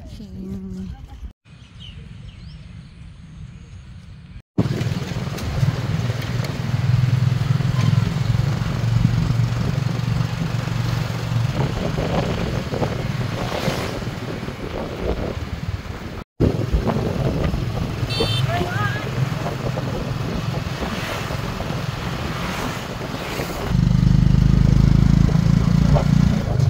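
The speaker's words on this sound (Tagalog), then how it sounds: "Sakay ng tuk-tuk, guys, mahangin." A tuk-tuk ride through downtown Siem Reap, Cambodia, with a steady engine drone and heavy wind buffeting the microphone throughout, broken by a couple of abrupt cuts, and louder engine rumble at the end.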